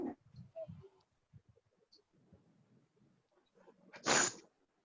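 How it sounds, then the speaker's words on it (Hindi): A single loud, sharp sneeze bursts out near the end, after quiet scattered faint sounds. "जी, स्नीज मतलब छींकना होता है।"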